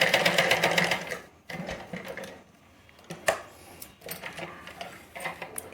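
Sewing machine stitching a sharara garment closed, running in a fast rattling burst at the start, then pausing and restarting in short bursts near the microphone.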